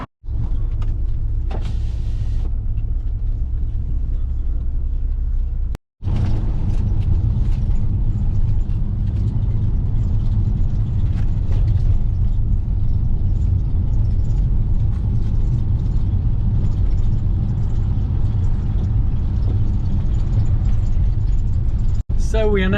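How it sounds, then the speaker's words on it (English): A van's engine and road noise rumble steadily while driving on a rainy day, a loud continuous low drone with a few brief interruptions, and speech over it. "So we are now back in the van, driving back"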